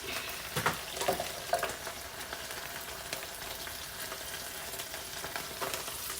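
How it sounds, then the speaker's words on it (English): Onions frying in a pan while a pork chop dish is being cooked, giving a steady, dense sizzle with crackling pops throughout, close and fairly quiet, with no talking. "I'm going to put my onions in."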